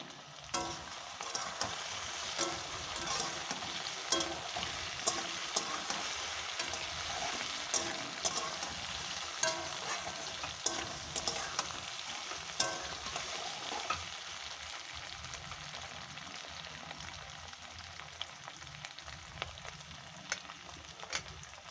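Ginger and chili sizzle and fry steadily in a hot pan, a continuous close crackling hiss with occasional stirring clicks and scrapes throughout.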